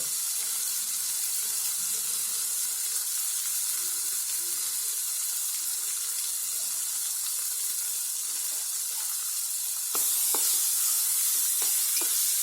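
A mixed spice paste added to hot tempering for sweet and sour masoor dal, sizzling in a steady hiss that brightens near the end with a few sharp clinks of stirring.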